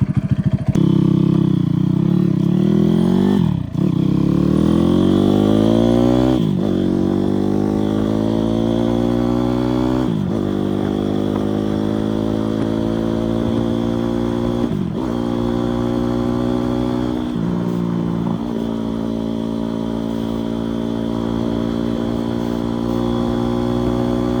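A motorcycle fitted with a YX160 engine pulls away and rides off, its engine loud and close, rising in pitch through repeated gear shifts with brief dips between them, sustained throughout without talk.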